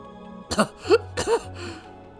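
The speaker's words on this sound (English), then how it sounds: "Mion still tried to explain, but ended up coughing instead." A young woman character coughs in a visual novel game, Higurashi When They Cry: three or four short, rough coughs with a throat-clearing quality, close and alone over a faint low tone.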